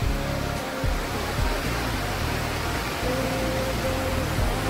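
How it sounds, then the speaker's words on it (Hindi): Amboli waterfall pours down the hillside in a steady, dense roar of rushing water, loud and unbroken throughout. "ये अंबोली का धबधबा है"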